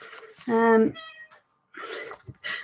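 A house cat lets out a clear, loud meow close by, then a shorter second call follows, while someone talks in the moments around it.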